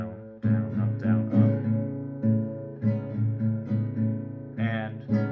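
Acoustic guitar strumming a down-down-up-down-up pattern, bright close chords in a relaxed repeating rhythm with no voice.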